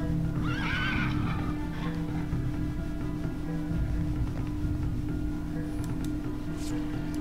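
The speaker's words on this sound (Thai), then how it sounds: "เป็นม้าเกียร์อีชา" A horse in the video game Battle Realms neighs with a bright whinny near the start, over a steady, dense game soundscape, with faint clip-clop hoofbeats and other game effects following.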